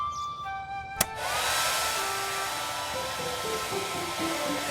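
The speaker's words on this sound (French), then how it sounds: "On allume le sèche-cheveux." A click, then a hair dryer switches on and keeps blowing steadily, a loud broad whoosh with a whine that gradually shifts in pitch.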